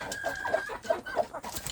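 Indonesian free-range village chickens cluck in a steady series of short, close calls, about five distinct clucks over a soft barnyard background, with no talking.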